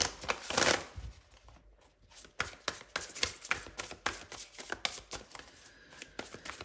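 Tarot cards are shuffled close up for a reading, with a burst of riffling followed by a run of quick, crisp card slaps and flicks, no talking.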